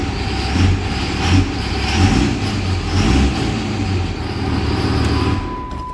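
A Cummins diesel engine idles loud and close with a steady low rumble, an uneven clacking knock and the chuff of an exhaust leak.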